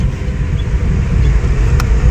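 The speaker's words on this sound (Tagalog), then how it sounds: "Ay nako, layo, sobrang traffic dito." Steady low rumble of car traffic on a congested road, heard from inside or beside a vehicle, continuous and moderately loud with no distinct passes.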